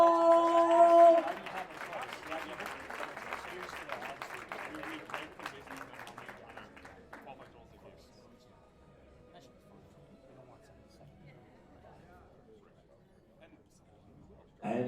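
A powerlifting meet crowd applauding and cheering for a women's classic silver medalist, loud at first then thinning into scattered clapping and chatter, with an announcer's voice over it.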